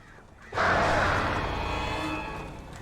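Hostile crows in the Alan Wake video game, a loud harsh burst of cawing that starts abruptly and continues as a dense flapping wash before slowly fading.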